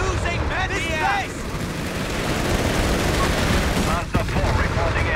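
Vickers machine gun fire in a Company of Heroes 3 battle, a dense sustained rattle mixed with explosions and battlefield noise, loud and continuous throughout, with a voice briefly heard early on.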